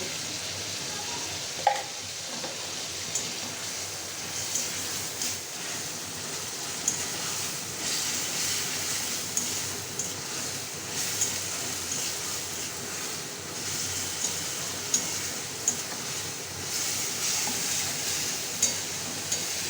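Ground spices sautéed lightly in a pan for a mutton khichuri, a steady hissing sizzle with repeated light clicks of a spatula stirring, close and continuous.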